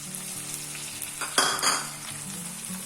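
Tomatoes frying in a pan of oil for Goan prawn balchão, a close, steady sizzle with a brief louder crackle and stirring around the middle.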